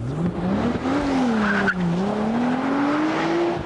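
An Audi RS4 launches hard from a standstill, its engine note climbing steadily in pitch as it pulls away, loud and close, with a hint of tyre squeal.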